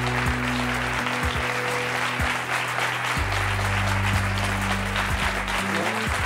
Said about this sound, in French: Je vous demande d'applaudir chaleureusement Philippe et Jean-Yves.